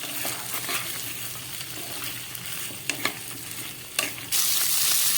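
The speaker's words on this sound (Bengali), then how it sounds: "এবার এগুলোকে ভালো করে একটু ভেজে নেবো" Eggplant, pumpkin and other vegetables for Malabar spinach curry fry and are stirred in a pan, with continuous sizzling and a few sharp scrapes, then a sudden louder hiss surges near the end.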